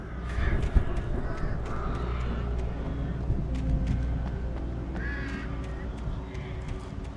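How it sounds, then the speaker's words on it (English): Crows caw repeatedly in the Alan Wake Remastered video game, several harsh calls rising over a steady low rumble of game ambience, with brief speech-like sounds mixed in. "And birds."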